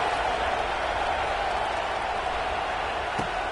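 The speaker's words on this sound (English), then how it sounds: "this crowd is buzzing after that last score" A football stadium crowd buzzes after a score, a steady, dense roar of many voices heard from a distance that holds level and unbroken throughout.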